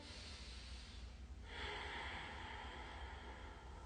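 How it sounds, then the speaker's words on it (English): A slow, deep breath during a yoga stretch, soft and close, the breath drawn in and then swelling into a fuller, airy exhale. "Let's take another breath here."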